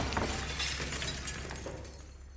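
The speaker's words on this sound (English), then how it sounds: "as a chandelier comes crashing down." A chandelier crashes down and shatters, a dense burst of breaking glass and debris sustained across the whole moment, loud and close with no voices.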